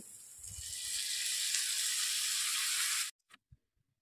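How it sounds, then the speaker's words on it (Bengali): Spice paste sautéing in a pan for an Indian mackerel curry, a loud steady sizzle that builds slightly and runs for about three seconds, then cuts off abruptly, followed by a couple of faint clinks. "এবার আমি ভালো করে মশলাটাকে কষিয়ে নেব"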